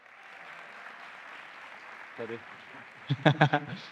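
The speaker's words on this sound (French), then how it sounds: "On applaudit Yann, s'il vous plaît." Applause from a seminar audience at an entrepreneurship and MLM talk rolls on as a soft, even patter, with a voice breaking in over it near the end.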